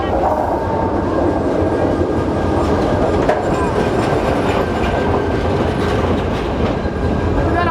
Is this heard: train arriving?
yes